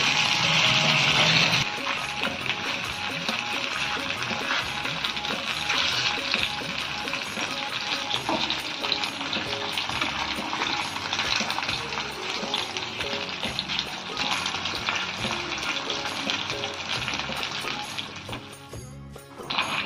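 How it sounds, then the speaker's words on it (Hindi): Pieces of cut fara dumplings sizzle in hot oil in a pan, a steady dense crackling hiss that stays close and loud throughout, with occasional stirring shifts and no talk. "तो एक एक करके सारे फरा को हम डालते जाएंगे और अलट पलट के अच्छे से पका लेंगे।"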